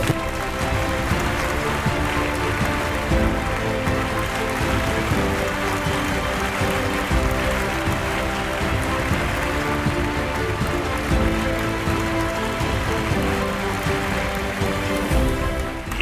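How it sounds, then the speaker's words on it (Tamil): Dense, sustained applause from a large audience welcoming a guest onto a stage, a steady wash of clapping that holds for the whole stretch with faint music underneath. "இயக்குனர் சிகரம் திரு பாரதி ராஜா அவர்களை பெரிய பெரிய கரகோஷத்துடன் இந்த மேடைக்கு அன்புடன் அழைக்கிறோம்"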